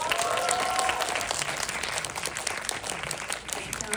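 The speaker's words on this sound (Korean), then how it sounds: "큰 박수 부탁드립니다." Steady applause from a cinema audience at a film Q&A in a Seoul multiplex, a dense, even patter of many hands clapping throughout, fairly close and without speech on top.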